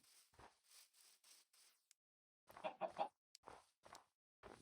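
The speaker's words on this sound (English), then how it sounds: "See a chicken and I get enraged." Minecraft chicken clucks come in short, separated bursts, a few soft ones, then a louder cluster after a brief silence, close and clear with no talk over them.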